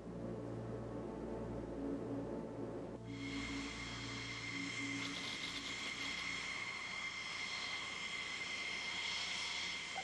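A Learjet flying at high altitude gives a steady, dense jet roar that suddenly shifts to a brighter, hissing whine partway through and then holds constant.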